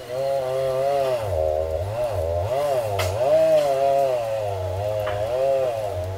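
A 2024 Makita MUR195 cordless brush cutter runs in the countryside, giving a close, continuous electric motor whine whose pitch rises and falls as the load changes, with no talking.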